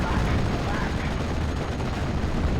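Sustained strafing gunfire rakes a Panzer 35 tank in the World War II strategy game Steel Division: Normandy 44, a dense, unbroken roar of rapid shots and rumbling impacts that stays loud for the whole stretch.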